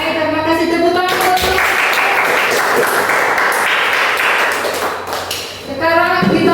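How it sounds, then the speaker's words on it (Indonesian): A classroom of students clapping together, a dense burst of applause filling the middle of the clip, with a voice talking before it starts and again as it fades. "Baik, terima kasih, tepuk tangan."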